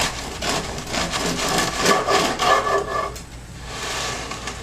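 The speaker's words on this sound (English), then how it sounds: "Let me cut a slice here. Oh, listen to the sound of that crust." A knife saws through a crusty loaf in quick, rough back-and-forth crackling strokes, close by, fading to a softer rasp at the end.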